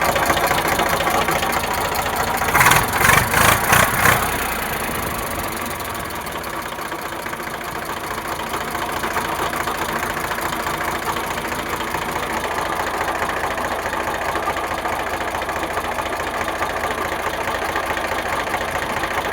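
An Eicher 368 tractor with an air-cooled Ricardo engine idles with a steady, close, knocking diesel chug, holding an even rhythm throughout, with a brief burst of clatter early on.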